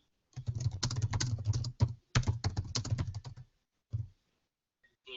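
Someone types on a computer keyboard close up, two bursts of rapid clattering keystrokes separated by short pauses, then a few isolated taps, with no talking.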